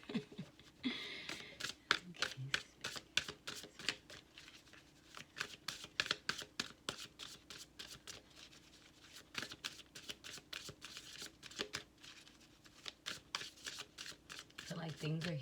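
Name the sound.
shuffling tarot advice cards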